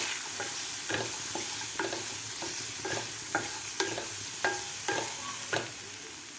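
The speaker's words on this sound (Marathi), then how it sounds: "आता व्यवस्थित आपल्याला हा मसाला त्या भाज्यामध्ये मिक्स करून घ्यायचा आहे" A spatula stirs masala through vegetables in a frying pan for a vegetable cheese masala Maggi, giving a rhythmic series of scraping strokes, roughly one each half second, over a soft constant sizzle.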